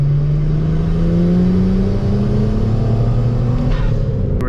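A BMW N54 engine revs loudly during a gear pull around 2,500 to 3,000 RPM, its pitch climbing steadily in a continuous close roar.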